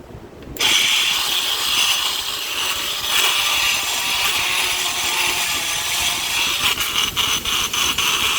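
A grinder porting an engine cylinder head kicks on abruptly and holds a loud, continuous high whine with a gritty, abrasive edge. The pitch wavers slightly as it bites into the metal, with brief dips near the end.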